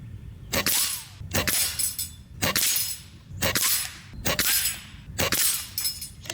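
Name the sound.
JTS Brawn bullpup PCP air rifle shooting, breaking a target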